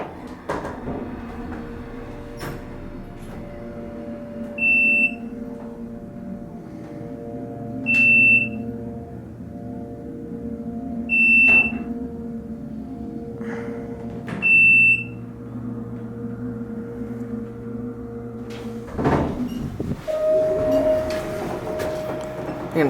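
A 1989 Otis Series 1 hydraulic elevator at a Doubletree by Hilton hotel, its motor giving a steady low hum and whine as the cab rises, broken by several short, high electronic beeps and a louder clunk near the end.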